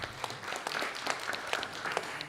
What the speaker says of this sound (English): Let's give a big round of applause to our